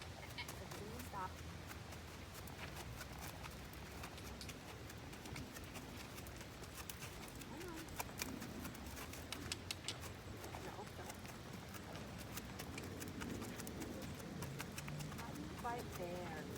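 A horse's hooves clip-clop in a steady rhythm during a gaiting lesson, continuing under frequent talk from the handler throughout.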